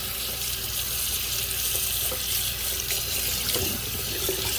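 A tap runs steadily while a pet is bathed, with water gushing and splashing close by in an even stream and small bumps of handling.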